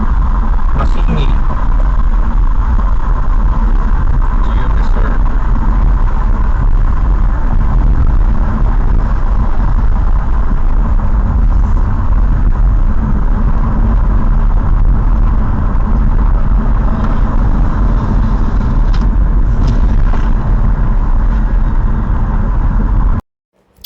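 A VinFast VF5 electric car in eco mode cruises the Sierra Madre mountain loop road, heard as a loud, steady in-cabin road rumble lasting throughout, with speech over it.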